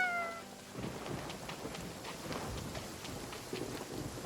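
Thunder rolls low and steady beneath rain in an animated story, a continuous moderate rumble after a brief tonal cry at the start.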